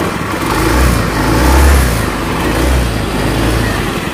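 A Honda Beat FI automatic scooter engine revs in surging waves during a test after repair, loud and close with no talking.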